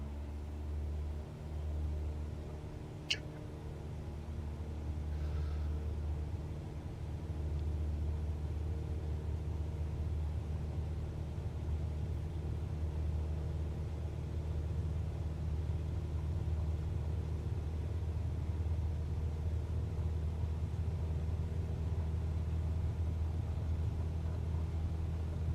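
A Cessna 172 engine in a flight simulator drones steadily through the takeoff roll, a low, even rumble that holds for the whole stretch, with one brief click early on.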